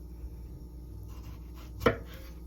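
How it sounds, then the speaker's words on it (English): A knife slices through a tomato on a cutting board, cutting it across the middle. After quiet kitchen background, one distinct close thud marks the blade striking the board. "I'm gonna cut it across the equator"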